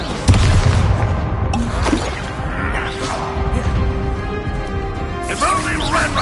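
A Bombarda blasting spell erupts in a Harry Potter video game: loud booming crashes and whooshing bursts mixed with rumbling debris, with a voice talking over the clamor.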